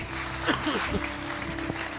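Brief applause from a church congregation, clapping mixed with a voice and a little laughter over a reverberant room, with a hum underneath.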